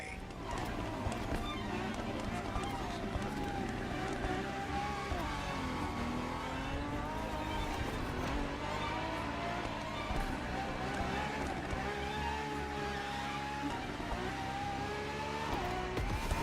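Ferrari FXXK supercar driving in the racing game The Crew Motorfest, a loud continuous engine note rising and falling through gear changes, with a voice talking over it throughout.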